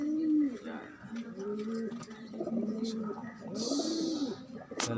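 Pigeons coo in repeated low, throaty rolling phrases close by, several calls overlapping in steady rhythm, with a brief hiss of noise partway through and voices faintly in the background.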